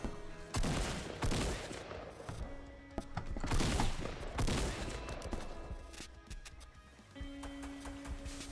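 Dense gunfire in the video game Fortnite, with rapid overlapping pistol shots and crackling bursts running almost continuously and loudly up close, mixed with game effects and no talking.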